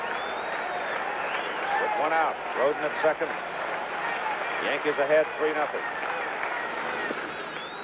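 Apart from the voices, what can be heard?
baseball stadium crowd applause building, World Series 1977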